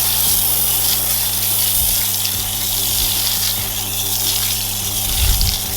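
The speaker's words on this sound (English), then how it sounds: "So the IK Foamer on this side, it's quite aerated, quite bubbly" IK Foamer snow foam sprayer pushing out aerated, bubbly foam while cleaning car wheels, a steady close spraying hiss with faint pump-like rumble and a few soft knocks.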